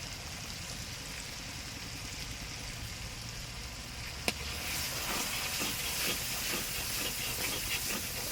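Chal kumra (ash gourd) and potato frying with chili powder and turmeric in a pan for a prawn curry, giving a steady hissing sizzle that swells louder after a brief clink midway, with no talking.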